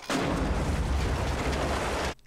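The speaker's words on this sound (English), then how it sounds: "Explosions. I like explosions." An explosion in the film Back to the Future Part III lands as one sustained, loud, rumbling blast lasting about two seconds before cutting off abruptly, with no talking over it.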